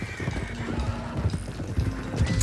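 Horse hooves clip-clopping at a steady trot in Red Dead Redemption 2, with low rumbling and some background noise, close and moderately loud.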